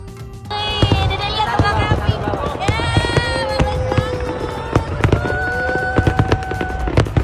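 Fireworks launch at a Japanese summer festival with whistling rising tones and rapid crackling pops, a dense, continuous barrage heard from the crowd with people talking in the background.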